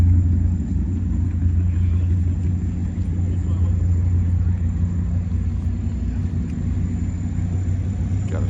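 A Mustang with a nitrous-fed small block Ford engine at Sacramento Raceway produces a steady, loud, low rumble, heard close and continuous throughout with no distinct revs.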